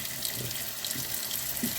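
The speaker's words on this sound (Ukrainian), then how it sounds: "Зараз залию гарячою водою" Hot water pours steadily into a cooking pot holding pork hock for homemade saltison. It makes a continuous rushing splash with no talking.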